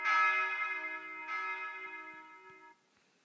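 Swinging peal sample from the church bells of St Vincent de Mâcon: a rich, sustained bell tone with a second strike partway through that rings on, then cuts off abruptly near the end.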